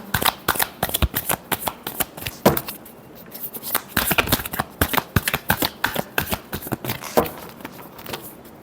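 Tarot cards are shuffled by hand in quick repeated riffles and slaps, a close, crisp papery flutter in uneven bursts with brief pauses between.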